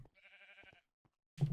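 A sheep in a video game bleats once, a short wavering cry, with a few soft clicks and a brief louder burst of noise at the end.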